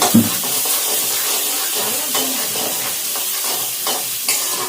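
Capsicum and green chilies sautéing in a pan, a loud, even hiss of frying throughout with faint scrapes and stirs, heard close and alone.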